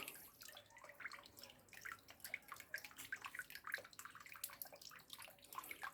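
Water running and trickling in a home garden with a small pool, flowerbeds and wooden planters, a steady splashing flow with scattered drips, fairly faint and continuous with no talk.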